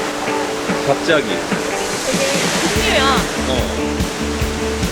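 Iguazu Falls roars as a continuous, loud wash of falling water, with people talking over it throughout.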